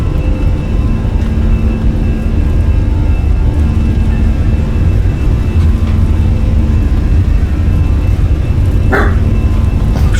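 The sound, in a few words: small pet dog barking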